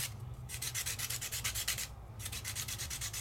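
A felt or marker tip is rubbed back and forth across sheets of sandpaper in steady, rhythmic scratchy strokes, close and fairly loud, with a brief pause partway through.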